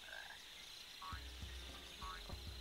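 A frog in the Sonic Adventure video game croaks repeatedly in low, regular pulses amid game ambience and faint melodic tones, fairly quiet, with no talking.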